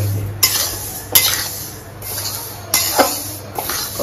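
Sesame seeds roasting in a dry pan while being stirred, with loud intermittent scrapes and clinks of a utensil against the metal over a faint background hiss.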